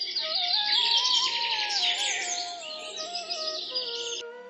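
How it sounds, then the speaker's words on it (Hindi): Birds chirping in a forest in the morning after rain, several bright overlapping songs and tweets in a continuous chorus at moderate volume, with a lower whistled tone running underneath. "पक्षियों की चहचहाहट फिर से जंगल में सुनाई देने लगी थी"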